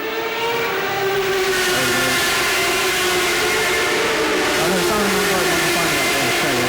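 Formula Renault 3.5 race car engine from a 2006 series race in Istanbul, sustained high-pitched howl with steady harmonic whine and shifting revs, loud and continuous throughout with no talk.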